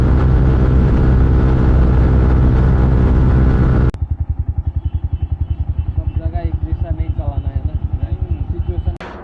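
Yamaha MT15 motorcycle on a long ride: a loud, steady engine drone with strong wind roar, then a close rhythmic thumping idle pulse that keeps an even beat for several seconds.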